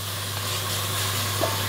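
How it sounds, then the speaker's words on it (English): Bacon fries in a pan for a German Swabian dish, releasing its fat in a dense, continuous close-up sizzle that stays even and loud throughout with no voices. "First thing we do is we fry the onions and the bacon."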